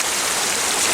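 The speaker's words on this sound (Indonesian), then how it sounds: "terdengar riak-riak suara dari air terjun yang dimaksud oleh warga tadi" The Jolotundo waterfall gives a dense, continuous rush of falling water, loud and steady with no pauses, and no voices over it.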